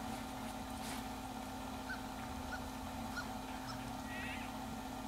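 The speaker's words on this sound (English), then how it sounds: "Is that a duck? Hi, duck." Duck quacks in the video game Firewatch: a few faint, short calls spaced over a steady ambient hum, with no talk.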